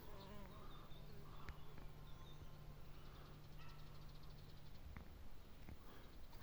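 Red mason bee, Osmia rufa, flying in to pack its nest tube, a faint continuous buzzing hum near the tube with soft outdoor background and no talking.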